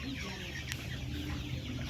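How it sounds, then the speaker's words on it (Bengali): Egyptian Fayoumi chickens clucking softly at a farm, a quiet, steady murmur of hen calls with a brief sharp sound partway through. "আপনাদের মাঝে নিয়ে এসেছি মিশরীয় ফাউমি মুরগি।"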